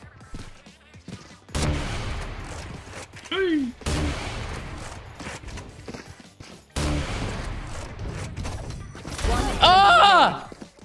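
Gunfire in the tactical shooter Valorant, with bursts of shots in several separate loud bursts during fast play and a voice talking excitedly over the action.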